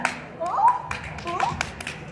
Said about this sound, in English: Clap like a sea lion.